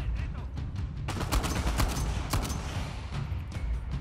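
Rapid bursts of gunfire in the video game Uncharted 4 crack repeatedly, dense and loud, with a heavy volley in the middle and scattered shots trailing off.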